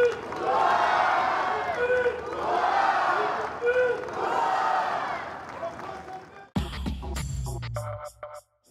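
A large crowd gathered in the square outside the Prince's Palace in Monaco during a rainy national day, with sustained waves of massed cheering and shouting, then an abrupt cut to quieter scattered activity near the end.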